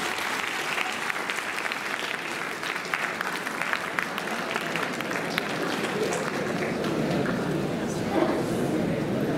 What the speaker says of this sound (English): Can the crowd give a round of applause?